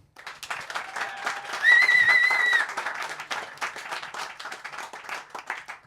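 Studio audience applauding and cheering to pick a comedy podcast story, a dense wash of many clapping hands with a whistle rising briefly near the middle, steady and fairly close throughout.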